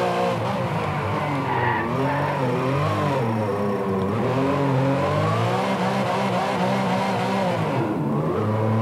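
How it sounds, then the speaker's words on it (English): A car spinning donuts in Driveclub, with continuous loud tire squeal wavering in pitch over a revving engine throughout, with no talk. "Good at doing donuts."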